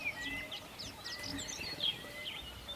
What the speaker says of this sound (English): Hear the chirping whispers of birds passing by.